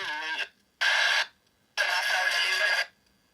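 Radio sweep from a Nanoportal ghost box by Infraready, in choppy bursts, three dry fragments of static and garbled broadcast cut off by sudden silences, with no echo.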